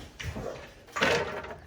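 A door frame pried off a doorway during a 1970s bathroom remodel, two short bursts of cracking, scraping wood close by, the second louder and longer.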